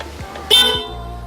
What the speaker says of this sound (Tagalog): Tapos sabay yung stock horn, tsaka yung ating MOCC horn.